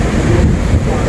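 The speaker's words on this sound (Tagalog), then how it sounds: "Actually, rito ngayon mahangin. Siguro, at the moment, nakikita nyo yan, maririnig yung hangin ngayon." Strong wind roars across the outdoor deck of the MSC Seaview cruise ship, a loud, steady buffeting of the microphone with no break over the brief moment.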